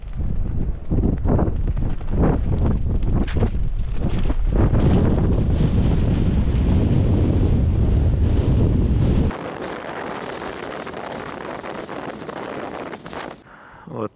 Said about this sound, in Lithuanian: Nu vėjas gerai laužo